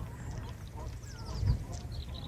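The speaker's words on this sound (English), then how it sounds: "If you listen very carefully you can hear the geese, but they're all hidden." Geese honk faintly from a distance on a marsh, hidden from view, their calls scattered through a low background hum with one slightly stronger burst midway.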